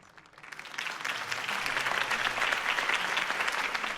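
A political campaign rally crowd in the video game Batman: The Telltale Series applauds after a speech, the clapping swelling in within the first second and then holding as a steady, dense wash.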